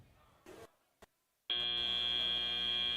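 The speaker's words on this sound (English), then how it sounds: "Oh, and that's the end of the buzzer." An end-of-match buzzer at a robotics league meet sounds loud and steady after a couple of short thumps, a sustained electronic tone that holds to the end without pause.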